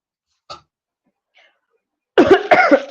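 A short burst of harsh coughing close up, preceded by a couple of faint breaths or small sounds in near silence.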